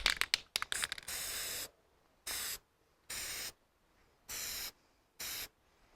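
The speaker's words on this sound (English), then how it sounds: "let's now spray just this end" A spray can of clear coat hisses onto the end of a tuna tail in a series of short, even bursts separated by pauses, close and steady, after a few quick rattling clicks at the start.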